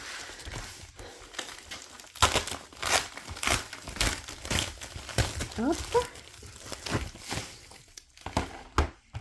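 Bubble-wrap packaging around a cheap online order of acrylic markers being handled and unwrapped, giving repeated crinkling and rustling bursts close to the mic, with a person speaking briefly.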